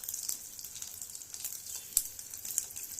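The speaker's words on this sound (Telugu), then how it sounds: "ఇప్పుడు మనం స్టవ్ వెలిగించుకుని ఎగ్స్ వేపించేసుకుని ఉల్లిపాయ కోసుకున్నాం" Eggs fry in a pan on a stove, giving a continuous soft sizzle with a few sharp pops and crackles near the middle and end, moderately close and without any talk.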